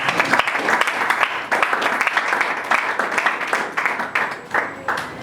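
A church congregation claps and applauds together for several seconds, a dense, loud patter of many hands with a few voices mixed in.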